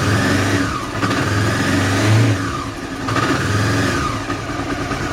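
A Honda CB500 motorcycle engine is revved with its low beam switched on, a close, loud mid-pitched roar that rises and falls over a few seconds, with no one talking.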